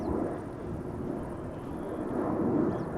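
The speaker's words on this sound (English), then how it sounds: "Now I'm hearing traffic depart to the north from runway 24." A plane departing Schiphol Airport from runway 24 produces a low, steady jet rumble that swells slightly toward the end, heard from a distance under overcast skies.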